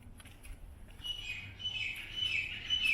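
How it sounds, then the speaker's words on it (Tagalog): Faint high chirping birdsong at Al Ain Oasis rises after the first second and continues, thin and somewhat distant over a low background rumble. "Yung saliw ng tunog ng huni ng ibon"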